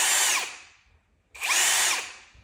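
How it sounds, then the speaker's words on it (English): A Ryobi 18V ONE+ compact brushless drill/driver revs up twice in quick bursts, each a loud, high whine that winds down and then spins up again, with no talk. "the drill itself has so much power right now that's actually pushing it"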